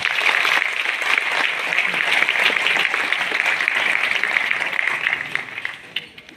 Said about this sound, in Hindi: इनके लिए भी तालियां हो जाए एक बार